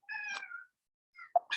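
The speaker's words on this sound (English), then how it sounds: "You're gonna have to excuse my cat." A pet cat meows indoors in a home setting, two short separate cries close by with a pause between them, no talking over them.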